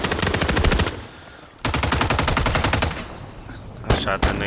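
Rapid automatic gunfire from a video game, two long bursts of closely spaced shots separated by a brief pause, followed by a few shorter shots at the end, loud and close.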